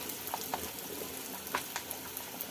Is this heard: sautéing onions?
yes